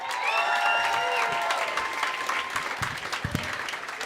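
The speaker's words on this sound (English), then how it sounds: "Please give a big round of applause to Gena Gephart." A comedy club audience on State Street applauds steadily as a comedian takes the stage, continuous clapping at moderate loudness with some faint whoops and a voice briefly coming through.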